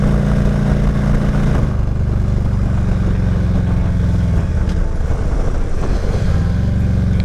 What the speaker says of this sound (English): Acceleration is about what you'd expect for an early 2000s Harley.